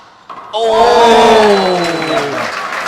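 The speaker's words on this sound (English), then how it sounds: "I think you can hear the crowd's reaction." Crowd reaction rising into applause and cheering at an All-Ireland ladies 4-wall handball final, swelling loudly after a quiet start and holding as a sustained roar with voices mixed in.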